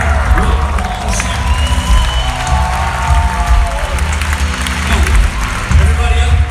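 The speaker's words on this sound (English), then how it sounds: "can we give these people a huge applause?" A church congregation breaks into loud, sustained applause filling the room, with scattered cheers and voices mixed in throughout.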